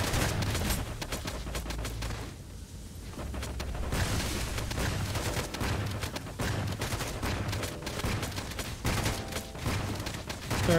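Enemy gunfire rains on the player in the survival game LifeAfter, rapid machine-gun bursts and repeated sharp shots crackling throughout, with one brief lull before the shooting resumes loud and close.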